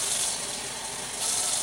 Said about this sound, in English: what I do is go ahead and wash the grapes, what I'm using, in the little snack bag